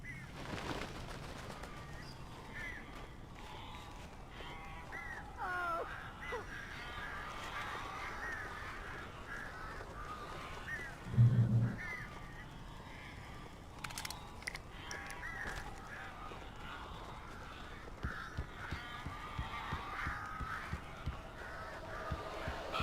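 Crows caw in the video game Alan Wake, scattered harsh calls over a low dark ambience with a thump partway through and game sounds around them.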